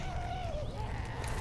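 Modded special infected in Left 4 Dead 2, a wavering goat-like bleat rising and falling over a steady game background.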